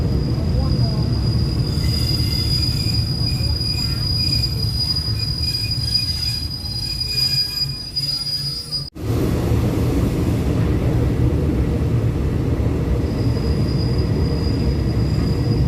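A passenger train runs along the line between Nong Saeng and Saraburi stations, a loud continuous rumble of wheels on rails with faint squeals, heard from on board, briefly dipping before the steady roar resumes.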